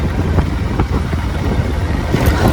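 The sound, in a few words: motorcycle ride on the road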